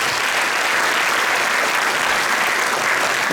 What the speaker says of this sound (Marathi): जोरदार टाळ्या या 2 व्यक्तींना.